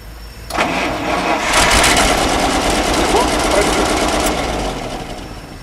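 A car engine cranks and catches, then revs up and settles into a steady running hum, loud and close.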